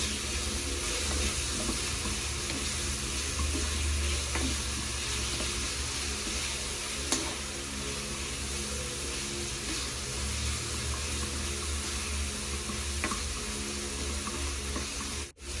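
Tilapia cheeks sauté in a pan, a steady close sizzle holding for the whole stretch with faint stirring and clinks mixed in, no voices.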